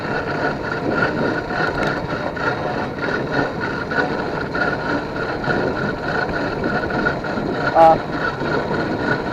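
A small two-stroke engine on a hybrid e-bike drones steadily at cruising speed under heavy wind buffeting, a continuous buzzing hum with a brief louder blip near the end; no clear speech.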